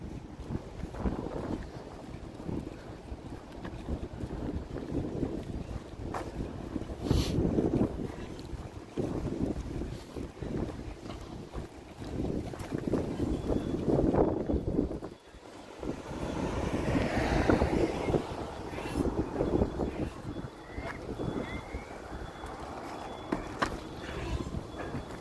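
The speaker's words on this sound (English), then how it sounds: "it's a little windy here" Gusty wind buffeting a microphone on an exposed hillside, loud rumbling bursts that swell and drop, with a brief lull midway before the blasts resume.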